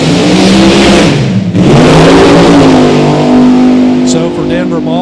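Drag racing cars on a strip under loud engine revving and roar, with an announcer talking over the continuous noise; no distinct launch burst stands out.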